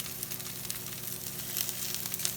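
Brussels sprouts with a sprinkle of garlic powder crackle softly in a pan, a quiet, even sizzle with scattered sharp pops and a low steady hum underneath, no one talking.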